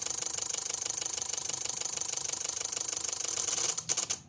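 Engine of a 2014 Daihatsu Terios with a crankshaft sensor fault, running at a steady rhythmic idle up close, then stumbling through a few uneven beats before cutting out.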